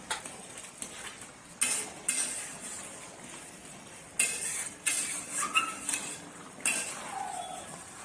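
A metal spoon stirs a pot of vegetable curry after the lid comes off, with several sharp clinks and scrapes against the pot separated by quieter pauses, close and clear with no talking.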